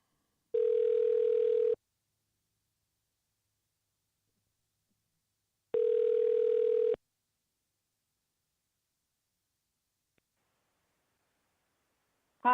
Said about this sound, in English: I'm going to call him here on this number, on the direct number, and see if he picks up